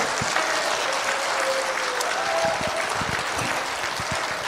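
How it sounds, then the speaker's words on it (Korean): Dense, sustained applause from a large church gathering of a federation of churches for free unification, steady and loud throughout with no talk over it. "다시 박수하겠습니다."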